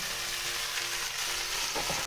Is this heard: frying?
yes